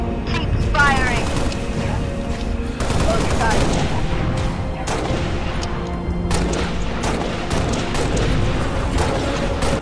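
Loud, close gunfire in Halo Reach during the ONI Sword Base mission: rapid automatic bursts and heavy booms overlap almost without pause for the whole stretch, with voices mixed into the din.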